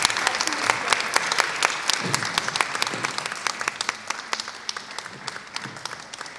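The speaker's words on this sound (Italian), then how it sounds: "un applauso." Audience applause at a bel canto singing week in Civitanova Alta, Italy: steady, sustained clapping from a room full of people, dense and fairly close, holding at an even level for several seconds.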